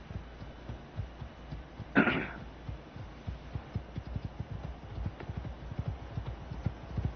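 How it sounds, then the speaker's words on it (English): Horse hooves clip-clopping in the survival game Icarus, a steady rhythmic run of close hoofbeats at moderate volume, with one brief louder scrape or snort near the start. "Let me move my horse to another spot then."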